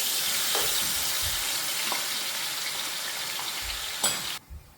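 Blended peppers and onions fry in a pot with a loud, steady hiss, marked by a few soft stirring knocks, and the sizzle cuts off sharply near the end, with no talking.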